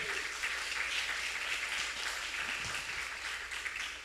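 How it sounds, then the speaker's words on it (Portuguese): Applause from a church congregation for Jesus during a sermon, a dense steady wash of many clapping hands filling the room throughout, with no voices over it. "Quem aplaude o teu Rei Jesus aqui dentro?"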